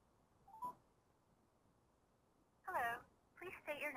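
Touch-tone dialing beeps come from a phone on speakerphone, one short tone and then a quick run of several more, clear and close in an otherwise quiet room.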